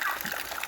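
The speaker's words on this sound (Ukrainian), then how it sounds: "Ось як тече вода." Rainwater trickles and splashes steadily into a bucket, a short continuous pour close by.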